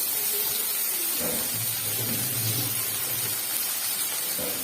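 Ginger fries in hot oil with a constant loud sizzling hiss, close and unbroken, with a faint low rumble underneath and no talking.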